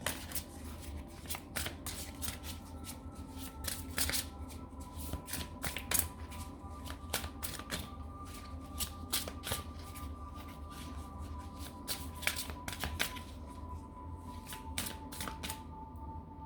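Oracle cards being shuffled and drawn on a table, a steady run of soft papery riffles and flicks with sharper card snaps scattered throughout, close and alone with no talking.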